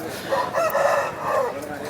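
A rooster crows once in a long, wavering call at a Sunday chicken market in Vijayawada. The crow sounds close and fairly loud, with faint market background around it.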